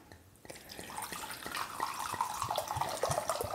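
Rosé wine pours into a jug for a batched wedding cocktail, a continuous liquid splash with bright gurgling and a rising fill tone over a few seconds, with no talk.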